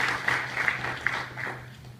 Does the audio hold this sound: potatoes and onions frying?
no